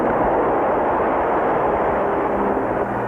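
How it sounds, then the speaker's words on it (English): A loud, steady roaring rumble of a cartoon atomic explosion that holds at full strength throughout without fading. "that first atomic explosion"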